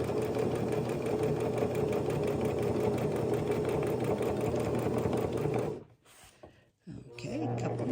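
Sewing machine stitching a fabric purse, a loud steady rapid needle chatter running continuously for several seconds before stopping abruptly, then a brief restart.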